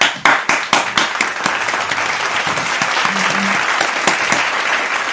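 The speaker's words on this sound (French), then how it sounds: "Applaudir." Applause at a New Year 2022 celebration, opening with a few sharp separate claps that swell into steady, loud, close clapping sustained to the end.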